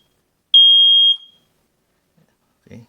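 A smoke detector under test lets out one loud, steady electronic beep of about half a second, then stops, leaving near silence before a brief low rustle at the end.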